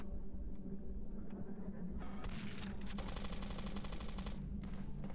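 Rapid bursts of gunfire from the 90s-style FPS game Zortch, heavy automatic fire dense and loud over a steady low rumble, fading out near the end.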